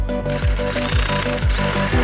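Step bit drilling a hood pin hole in the hood of a 1966 Mustang coupe, close and loud, with a rhythmic grinding chatter that pulses about every half second as the bit bites through the metal.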